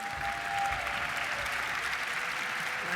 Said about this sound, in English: can we get a round of applause for our guest MCs?